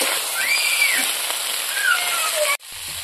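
Country chicken meat frying in a pan makes a dense, steady sizzle, loud and close, that cuts off abruptly near the end. Faint voice-like tones sit beneath it.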